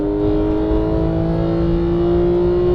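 A Porsche 911 GT3 of the 991 generation accelerates on a racetrack, its engine holding a loud, steady tonal drone heard from inside the car that climbs slightly in pitch.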